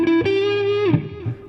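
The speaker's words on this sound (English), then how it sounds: "Let's explore some neck lead tones with this," Epiphone 335 Dave Grohl signature guitar played through its neck pickup, giving a warm, overdriven lead tone: a sustained note bending and gliding, then a few shorter picked notes, alone and fairly loud.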